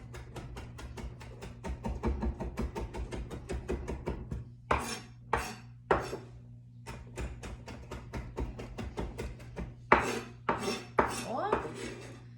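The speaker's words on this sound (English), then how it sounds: "I'm just gonna kind of use that rocking back and forth motion and dice up all this cilantro" Knife dicing cilantro on a cutting board with a rocking back-and-forth motion, rapid rhythmic chopping taps up close, later slowing into separate bursts of strokes.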